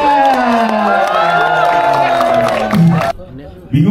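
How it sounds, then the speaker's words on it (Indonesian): A studio audience at an Indonesian entertainment show cheers and whoops over loud music as a guest is welcomed, with shouting voices and some clapping, a noisy sustained roar that cuts off abruptly near the end. "tepuk tangan dulu"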